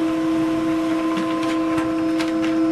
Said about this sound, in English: once you press, it will start to copy straight away.